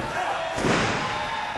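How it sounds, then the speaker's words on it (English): A pro wrestler is hit with a big clothesline, a heavy slam that rises out of loud, dense arena noise. "and a big clothesline"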